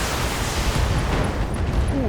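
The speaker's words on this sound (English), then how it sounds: "LRM ammo explosion." A long-range missile ammunition explosion rumbles through a BattleTech mech battle, a dense, sustained blast with booming low crackle and no talk over it.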